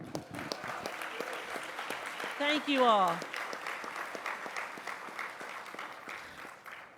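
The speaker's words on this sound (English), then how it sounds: "So now we'll do one last round of applause." Conference audience applauding steadily throughout, a dense patter of many hands, with a brief spoken thanks rising over it midway.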